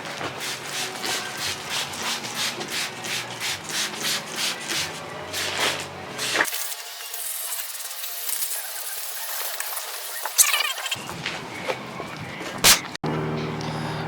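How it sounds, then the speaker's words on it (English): Quick, rhythmic back-and-forth wet sanding of a Honda Civic headlight with 600-grit sandpaper, soap and water makes a wet, gritty scrape close up for several seconds, then turns to a duller, quieter hiss. "Now I'm going to use 600 grit with soap and water."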